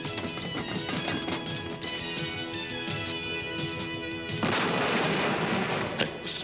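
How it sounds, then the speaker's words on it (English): Repeated booming explosions and sharp blasts amid rumbling and sustained tones, with a heavier, louder burst erupting partway through. "Explosions?"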